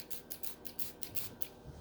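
A spray bottle is pumped in a quick series of short hissing bursts, about seven or eight spritzes in steady rhythm, close and fairly quiet.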